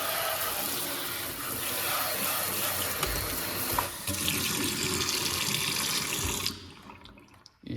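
Tap water runs steadily into a double kitchen sink, a close, loud hiss with some splashing that changes tone midway, then cuts off near the end, with no talking.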